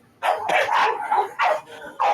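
A dog barks close by in four loud, rough barks, with short pauses between them.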